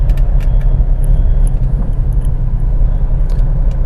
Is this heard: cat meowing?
no